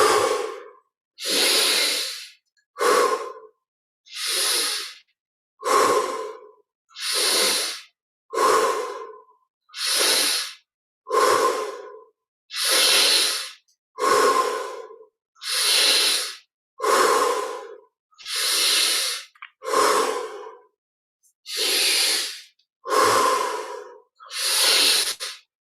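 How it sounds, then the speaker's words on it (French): Slow deep breaths drawn in through the nose and released through the mouth during a yoga practice, about fifteen regular cycles, close and audible with silence between each breath. "On inspire par le nez,"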